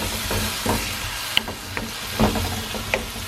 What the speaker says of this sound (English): I'm gonna mix it up really good and let it cook a little bit so the tomato gets cooked down